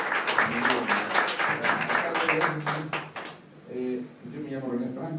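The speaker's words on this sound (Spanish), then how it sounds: "aplauso para Gustavo Markovich, por favor." Audience applause at a book presentation in a Gandhi bookstore, a sustained burst of clapping that fades out, followed by someone speaking.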